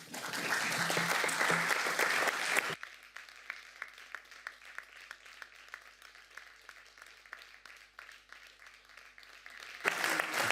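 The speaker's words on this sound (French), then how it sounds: "En principe, on n'applaudit pas." Applause in a Strasbourg city council chamber: a dense burst of clapping, then a thinner patter of scattered individual claps before a fuller swell of applause returns at the end.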